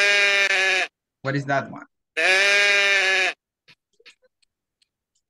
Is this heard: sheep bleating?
yes